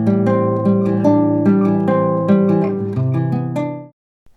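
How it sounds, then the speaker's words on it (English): Acoustic guitar playing a short strummed and picked passage, rich harmonic chords ringing steadily for about four seconds before stopping abruptly, with no talking. "A guitar sounds like this."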